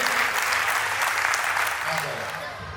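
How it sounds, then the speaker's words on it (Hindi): A crowd at a Jain community group's Diwali festival gathering in Gwalior breaks into loud, dense applause that fills the whole stretch, easing off slightly toward the end. "आप अपने सम्मान में एक बार जोरदार ताली बजाइए"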